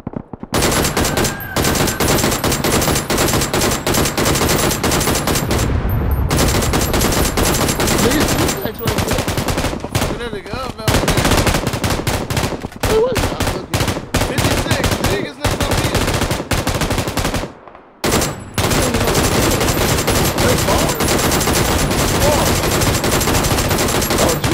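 Rapid automatic gunfire from PUBG, loud and nearly continuous over the whole stretch, with dense bursts and only brief pauses.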